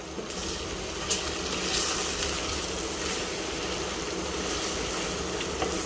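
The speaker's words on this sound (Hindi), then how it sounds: "इसको हम थोड़ा सा भून लेते हैं।" Ginger-garlic paste and green chili paste frying in a pan for arvi chicken salan, a dense, steady close sizzle with faint stirring and no voices.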